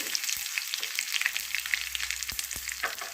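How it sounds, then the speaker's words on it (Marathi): Green chillies, curry leaves and sesame seeds sautéing for a besan dhokla tempering: close, crackling sizzle with rapid popping and a few sharp taps, lively and continuous with no speech. "चार हिरव्या मिरच्या घालूया दोन चमचे तीळ घालूया तो हो, थोडा वेळ परतून घेऊ"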